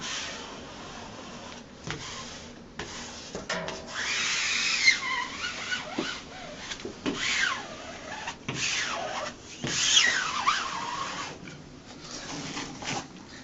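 A squeegee smooths Phototex wallcovering, making repeated close rubbing and swishing strokes of varying length across the surface.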